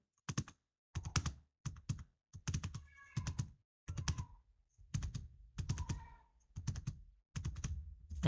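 Typing on a computer keyboard while entering text into an Excel spreadsheet cell, with bursts of close, crisp key clicks separated by short pauses.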